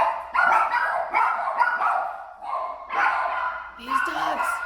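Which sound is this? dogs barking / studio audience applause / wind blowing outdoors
dogs barking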